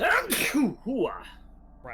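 A single close sneeze from a person during a Silent Hill 2 game stream, a sharp burst followed by brief voiced sounds and a short spoken word.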